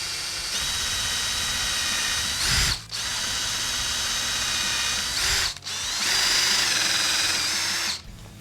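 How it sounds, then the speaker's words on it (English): A drill fitted with a Dewalt accessory bores pilot holes for countersunk screws, three close, loud whining bursts of about two to three seconds each, separated by short stops as the bit comes out. "let's make a couple pilot holes."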